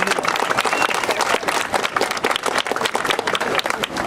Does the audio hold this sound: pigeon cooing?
no